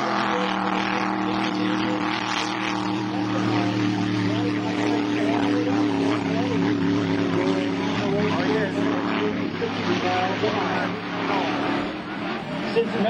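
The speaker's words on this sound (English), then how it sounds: "Since methanol is such a cold fuel, it takes a while for the engine to warm up." A methanol-fuelled Grand Prix hydroplane racing boat engine roars continuously at close range while warming up in Morgan City, a dense steady drone with slight pitch shifts; a voice talks faintly underneath.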